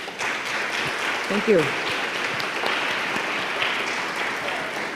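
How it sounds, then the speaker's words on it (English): A lecture-hall audience gives a round of applause for Lori, a steady wash of clapping running the whole length, with a brief voice speaking over it near the start. "Let's give Lori a round of applause."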